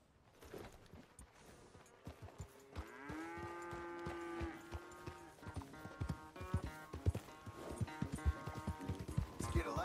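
Hooves clatter in a steady galloping rhythm from a horse in Red Dead Redemption 2 on a farm corral, with a tonal, music-like layer entering partway and the clopping continuing close and clear to the end.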